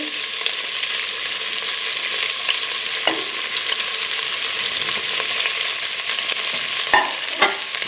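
Carrots, yardlong beans and spring onion stir-fried for fried rice, with a steady close sizzle in hot oil and scraping spatula strokes, a few sharper clatters near the end.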